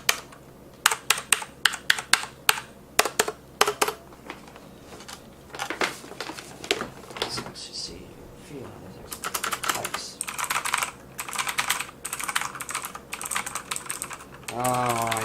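A TOMOKO RGB mechanical gaming keyboard with blue switches clacks as someone types on it, in irregular bursts of sharp, close clicks with brief pauses, and a voice may be faintly present.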